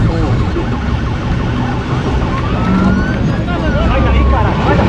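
A police car siren wails loudly during a chase, rising and falling under dense traffic and road noise. Voices can be heard over the siren.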